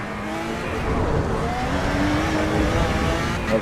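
A Lotus Exige V6 Cup car accelerates hard in a racing video game, its engine note rising steadily and loud with rough revving texture and faint tyre noise, no voices.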